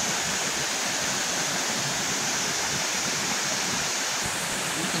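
Lambingan Falls on Sibuyan Island in the Philippines pours in a dense, steady roar of rushing water, loud and close, continuous for the whole stretch with no voices.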